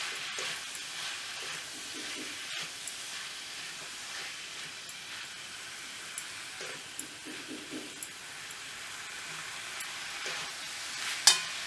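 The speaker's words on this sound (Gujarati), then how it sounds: "એને આપણે મિક્સ કરી લઈશું" Valor bean curry with ground green masala being stirred and mixed in a hot pan: a soft, continuous sizzle with scattered scraping clicks of the spoon, fairly quiet and close, with no talking.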